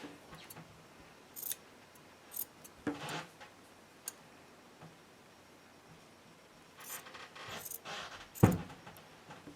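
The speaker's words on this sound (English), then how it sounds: "I'm going to cut the excess bit of the binding, this part right here, off fairly close to the seam" Scissors snip away excess quilt binding fabric close to the seam, giving a few faint, scattered cuts and light clicks against a quiet room.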